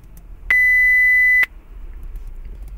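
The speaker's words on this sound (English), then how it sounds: "So now we try 2000 Hertz doubling." A pure 2000 Hz sine test tone sounds for about one second, steady and loud, starting and stopping abruptly against faint room hiss.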